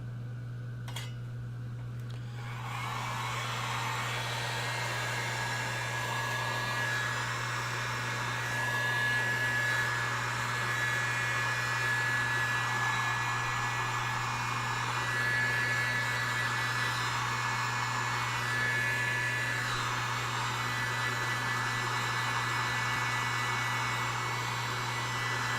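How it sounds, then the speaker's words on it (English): A heat gun blows hot air in a steady, loud roaring hiss for nearly the whole stretch after a brief quiet start, with a constant low hum underneath and slight shifts in tone as it moves. "All right, let's take the heat gun for a second here."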